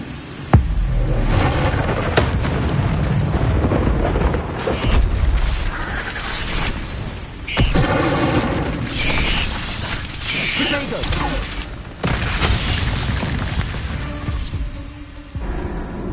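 Incendio fire spell blasts in Hogwarts Legacy, loud, repeated whooshing bursts and booms landing at irregular intervals over dense game noise, with sharp cracks and crashes in between.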